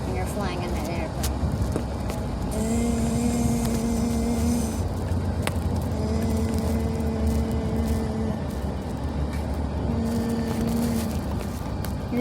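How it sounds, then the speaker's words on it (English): Car interior on the road: a steady low rumble of tyre and engine noise runs throughout, with a person talking over it. "I'm in a car now."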